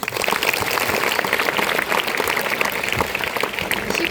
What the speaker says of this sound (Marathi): एकदा सगळ्या शिक्षकांसाठी जोरदार टाळ्या वाजवा